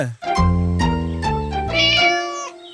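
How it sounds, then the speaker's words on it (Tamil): Cartoon cat meowing: one long, drawn-out, clear meow with a rising and falling pitch, loud and close with no talking over it. "மிட்டு பூனைக்கு பயந்துகிட்டு எலிங்க அதோட பொந்துல இருந்து வெளியே வர்றதுக்கு பயந்துட்டு இருந்துச்சு"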